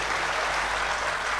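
A crowd at a poetry recital claps in a continuous, even wash of applause, moderately loud and with no voices over it.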